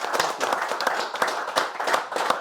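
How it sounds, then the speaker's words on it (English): A live audience at a Christmas-party comedy gig gives a short burst of applause, a brisk and fairly dense patter of hand claps, close and moderately loud. "Mate, give him a round of applause then, Daniel."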